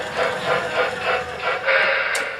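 A G gauge model locomotive runs along its track with a steady mechanical whir and rhythmic chuffing pulses at moderate volume, close by, with a brief high chirp near the end.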